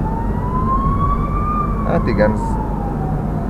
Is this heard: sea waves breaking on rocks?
no